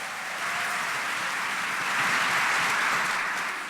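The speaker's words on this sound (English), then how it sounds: "Can everybody give a huge round of applause to Sergio for all of his work?" Audience applause at a school district convocation: a dense, roaring sheet of many hands clapping that swells slightly midway and holds steady, loud and continuous with no distinct individual claps or speech.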